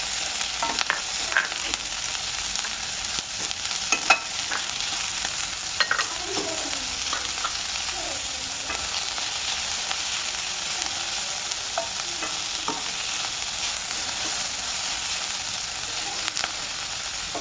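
Chopped onion frying in oil in a pan for soya chilli manchurian, a steady close hiss and crackle of sizzling throughout, with occasional faint stirring scrapes and no talking.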